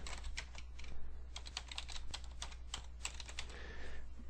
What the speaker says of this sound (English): I'm just going to type that in here,